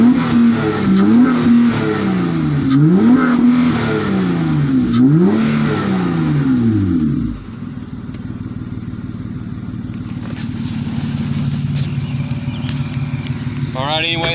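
Revving engine of a 2007 Honda Pilot with a Flowmaster Super 10 dual exhaust and 5-inch tips, heard from inside the cabin: loud rising-and-falling revs for several seconds, then a steadier lower drone with a brief clatter near the end.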